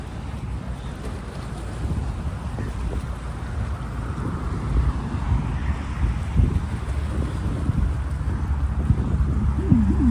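Wind gusts steadily across the southern Brooklyn waterfront, buffeting the microphone with a constant low rumble that strengthens slightly over ten seconds, with faint water and distant background noise beneath.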